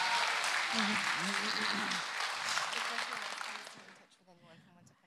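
Audience applause for actress Emilie de Ravin at a TGS Springbreak 2022 fan convention panel, dense and steady with voices mixed in, fading out toward the end as a few words are spoken.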